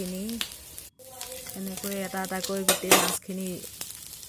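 A spoon turns small pieces of fish in a dry pan heated without oil. Soft sizzling sits under scrapes and clinks of the spoon on the pan, and a voice talks steadily through most of it.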